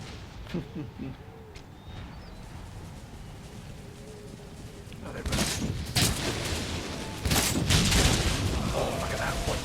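Artillery and musket fire in an Empire: Total War battle, quiet ambience at first, then loud cracking volleys and booms in bursts from the midpoint on, with someone talking over it.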